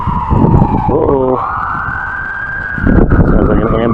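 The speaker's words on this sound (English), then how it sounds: "Sounds like an ambulance." An ambulance siren wails outdoors, rising into a sustained tone and fading. It is heard over loud rumbling handling noise while out metal detecting for coins.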